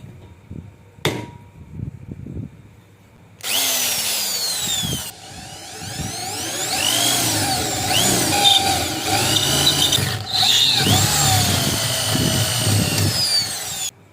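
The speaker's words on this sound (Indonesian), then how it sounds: "Kita bor di bagian tengah-tengah," A power drill bores a 5 mm hole through the centre of a motorbike valve stem or nail rod, a loud continuous whine running for about ten seconds after a few taps and a brief earlier burst.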